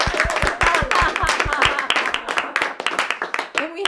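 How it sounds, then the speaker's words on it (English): An audience claps for a graduate honored as top of the class, a lively patter of many hands with some individual claps standing out sharply, gradually thinning toward the end while a voice murmurs faintly underneath. "So let's just clap for John right now."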